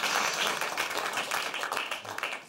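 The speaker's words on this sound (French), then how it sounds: "Oui, bravo, un point, on l'applaudit." Steady applause from a crowd, a dense wash of clapping that stays loud throughout and tapers slightly at the end.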